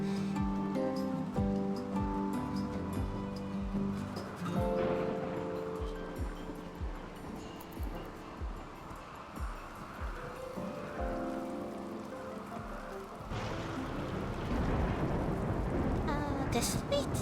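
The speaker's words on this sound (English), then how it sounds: "The sweet, sweet thunderstorm noises." Steady rain with rolling rumbles of thunder from a thunderstorm in the colony-building game Rimworld, layered under game music and talk, with the storm swelling louder near the end.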